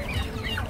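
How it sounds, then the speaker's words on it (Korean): A chicken at the Moran five-day traditional market clucks briefly amid a busy, noisy background, a short burst of fowl sounds close by. "닭."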